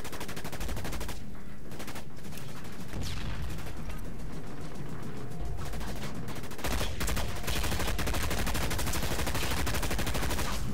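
Dense rapid gunfire from the video game Dust 514 on PS3, loud and sustained with automatic bursts nearly filling the whole stretch and only brief lulls.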